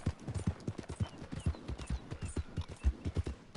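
Horse hooves galloping in Red Dead Redemption 2, a steady rapid clip-clop of hoofbeats close up, loud and continuous with no talking.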